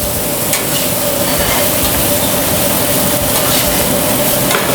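Food sizzling loudly and steadily on the hot part of a grill, a dense close frying hiss with no breaks.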